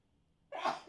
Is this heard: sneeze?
yes